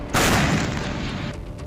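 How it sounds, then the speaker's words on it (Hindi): Grenade blast during an NSG anti-fidayeen operation in Kathua, Jammu and Kashmir: one sudden loud boom followed by a rumbling decay that lingers for over a second, with no voices. "अंदर मौजूद आतंकी ग्रेनेड फेंक कर धमाका कर देते।"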